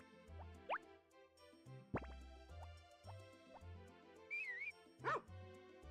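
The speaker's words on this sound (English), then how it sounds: "Dog!" A dog barks and yips in a PS1 video game amid plopping game sound effects and background music, short bright yelps scattered over a few seconds at quiet volume.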